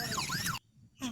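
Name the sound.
toy ambulance siren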